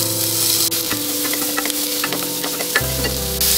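Chopped onions hit hot butter in a pan for paneer butter masala and sizzle steadily and loudly, with light stirring clicks and scrapes running through the frying.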